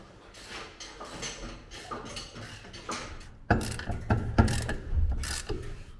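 Mechanical ratcheting and metallic clicks from a wrench working a long-unremoved wheel nut on a Ferrusca build, starting softer then turning into louder, sharp bursts of ratchet clicks and clanks near the end, close by.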